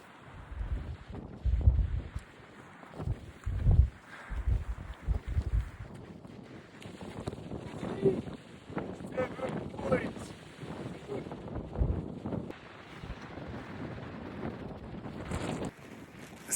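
Gusty wind buffets the microphone on a beach walk in Cornwall near Padstow, with low rumbling bursts early on and a steady breezy roar throughout, while people talk intermittently over it.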